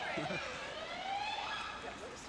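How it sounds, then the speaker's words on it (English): A police or ambulance siren wails along a London street, its rising and falling tone fairly faint and distant over a low city murmur. "you will see the police sirens or ambulance sirens at the regular intervals"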